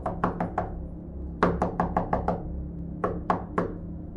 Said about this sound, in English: Then suddenly 3 knocks.